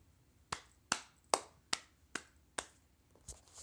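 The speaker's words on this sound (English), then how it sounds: "I literally just clapped for Jeff Teague" A single person claps about seven times at a steady, unhurried pace, sharp close claps standing alone in a quiet room, the last one softer.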